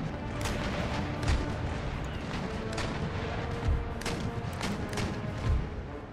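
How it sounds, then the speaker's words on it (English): Round shot cannons fire in an Empire Total War naval battle: several deep booms land at intervals over a constant rumbling din of distant gunfire and crackle. "Round shots."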